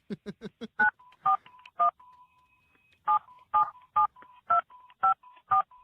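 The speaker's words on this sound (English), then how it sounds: "Please enter the area code, prefix, and number." Touch-tone keypad dialing on a jail phone: a rapid run of short tones, a pause, then a steady series of evenly spaced beeps with faint tones between them, clear and close with no talking.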